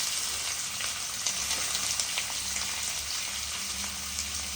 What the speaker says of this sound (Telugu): ఆయిల్ వేడయిందండి ఇప్పుడు మనం పచ్చిమిర్చి వేసానండి తర్వాత ఉల్లిపాయలు కూడా వేసుకుంటున్నాను